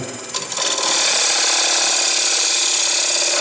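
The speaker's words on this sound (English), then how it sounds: "I'm taking a fairly aggressive cut just so I don't have to spend an awful lot of time." A bowl gouge takes an aggressive cut of just over an eighth of an inch into dry wood on a lathe while turning a shallow bowl. It is a loud, close, continuous rasping hiss that builds within the first second and then holds steady, with no voices.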